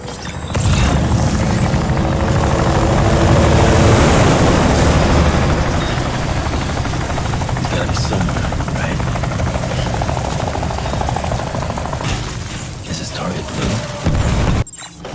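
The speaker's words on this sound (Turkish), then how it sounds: "Helikopter geçirdi." Helicopter from the video game Death Stranding roars close overhead, a loud sustained rotor and engine wash that holds steady for most of the stretch before cutting off near the end.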